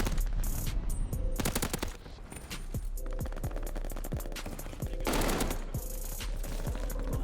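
Rapid bursts of NZ-41 rifle fire in Call of Duty: Vanguard multiplayer, repeated shots in quick strings with short pauses, close and loud, with brief game sounds between bursts.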